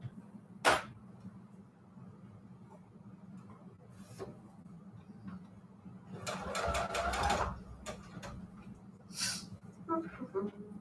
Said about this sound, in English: I'm going to try the Ruffler gadget for my sewing machine